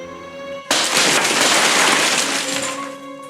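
Safety glass of the kind used in windows and doors shatters in one sudden loud crash, followed by a sustained spray of breaking fragments that fades out after a few seconds.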